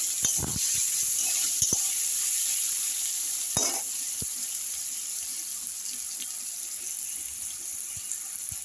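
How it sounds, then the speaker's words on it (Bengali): Eggplant pieces salted and coated in turmeric fry in oil in a pan, a constant bright hiss with occasional utensil taps and scrapes, heard alone without talk. "বেগুনটাকে আমি লাল লাল করে ভেজে"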